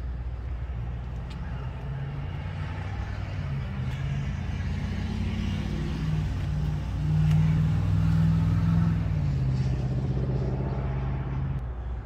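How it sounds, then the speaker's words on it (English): A truck rolls past outdoors in a residential yard setting, a low engine rumble that swells to its loudest near the middle and fades slightly, continuous throughout with no speech. "there's the truck."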